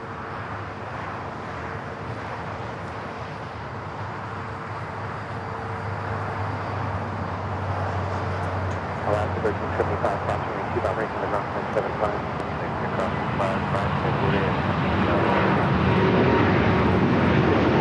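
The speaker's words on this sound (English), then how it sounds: "That is TAP Air Portugal 248 taking off" TAP Air Portugal A330neo on its takeoff roll down runway 25R at LAX, engine roar building steadily louder over nearly eighteen seconds, with a voice talking over it.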